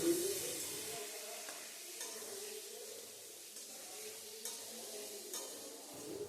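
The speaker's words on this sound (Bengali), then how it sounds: "এবার বাকি যে তেলটুকু রয়েছে তার মধ্যেই আমি আলুগুলো ভেজে নেব।" Diced potatoes, coated in salt and turmeric, frying in leftover oil in a pan, a soft steady sizzle with light stirring scrapes, faint and continuous without talk.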